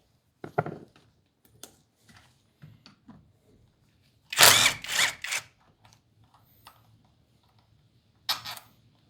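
A power drill or impact tool spins a bolt out of a trashed 50cc SYX Moto dirt bike, a loud whirring burst of about a second amid quiet clicks and small tool taps, with a shorter burst near the end.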